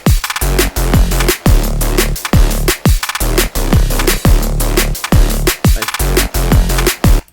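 Drum and bass beat carrying a bass synth preset called Delay of Ages layered with a sub, with punchy kicks and snares in a fast driving rhythm, loud and dense with no talk.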